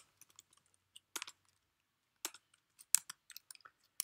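Code typed on a computer keyboard in a script editor: sparse, close key clicks in short irregular bursts with pauses between, quiet, with no talking.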